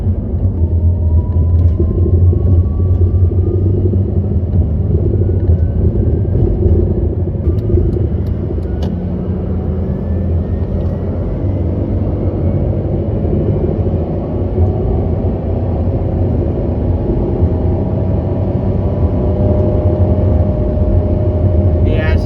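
A car engine holds a steady high drone at about 4000 RPM while the automatic transmission fails to shift, a continuous rumble heard from inside the vehicle with no clear changes in pitch.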